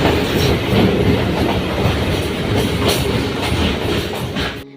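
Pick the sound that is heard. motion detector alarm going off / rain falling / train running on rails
train running on rails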